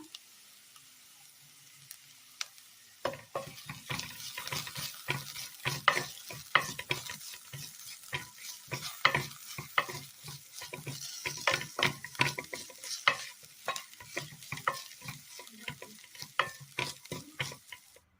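Curry leaves crackle and sizzle in hot oil with pumpkin seeds, dense popping and spitting bursts starting after a quiet opening and continuing steadily, with occasional stirring scrapes, close and fairly loud.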